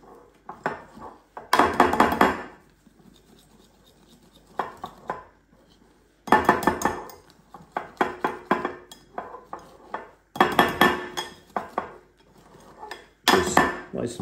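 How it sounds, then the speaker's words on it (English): Oat pancake batter being whisked in a bowl, brisk bursts of clattering metal-on-bowl beats separated by short pauses, close and loud. "I'm just going to whisk those in together to form my nice batter"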